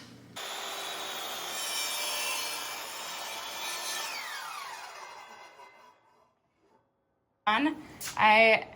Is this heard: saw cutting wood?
yes